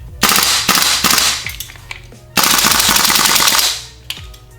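Two rapid full-auto bursts from a KWA LM4 gas blowback airsoft rifle, sharp clattering shots in quick succession with metallic gas blowback, close and loud.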